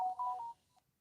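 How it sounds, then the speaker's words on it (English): Phone notification chime, a short, bright two-note electronic tone lasting about half a second, faint and close, followed by quiet. "my notifications are going crazy"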